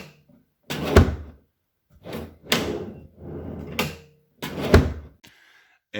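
A self-closing kitchen drawer on a shop-built plywood unit meant for heavy loads, heard as several separate slides and soft thuds as it pulls shut, each short burst followed by a pause, fairly close and with no talking.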